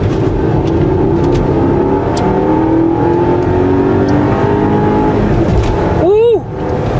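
A supercharged 510 hp Range Rover accelerates hard, its engine note climbing loud and close through the gears before a sharp shift, then rising again.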